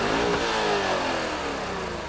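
A BMW M5 E39 with a 5-liter V8 of 400 horsepower accelerates, a loud, steady engine roar with rising tone lasting the whole moment.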